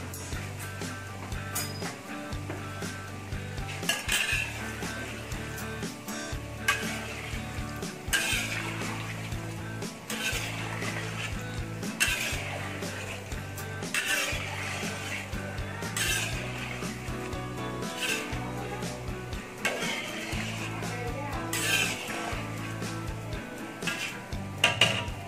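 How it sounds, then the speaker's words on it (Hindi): Samosas fry quietly in oil over a low flame while a metal spoon or slotted ladle repeatedly scrapes and clinks against the pan, turning them in an irregular rhythm under a faint sizzle. "धीमी आंच पे पकने दे इसे और बीच बीच में इसको पलटा"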